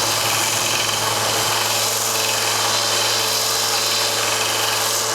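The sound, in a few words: belt disc sander sanding PVC pipe rings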